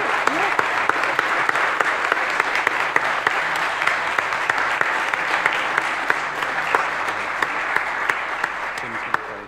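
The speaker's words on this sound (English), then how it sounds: "And the crowd went wild." A crowd applauds steadily after a church baptism, a dense wash of clapping hands that holds at an even level throughout.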